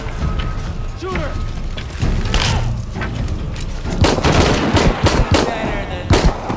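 Gunfire in Shadow of the Tomb Raider: sharp shots and bursts build into rapid, loud volleys in the second half, mixed with mechanical clicks and game effects, with occasional voices.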